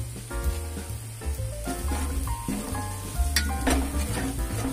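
Turmeric, asafoetida, fenugreek powder and salt masala sizzle steadily in a pan over a low flame for a fish pickle, stirred with occasional utensil scrapes, close and continuous with no talking.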